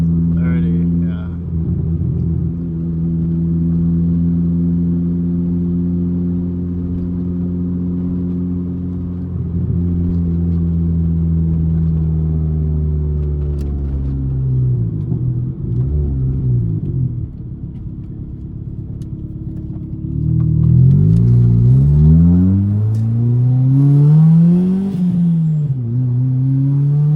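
A 1995 Honda Del Sol with a big turbo drives along, its engine droning steadily in low harmonics that rise with acceleration near the end, while people talk over it inside the car.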